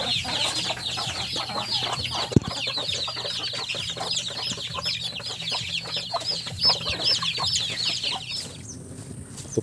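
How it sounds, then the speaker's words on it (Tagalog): Native chickens cluck continuously in a farm pen, a busy overlapping chorus of short calls at close range with occasional small knocks and no speech. "Dala sa ating native chicken nga nandito."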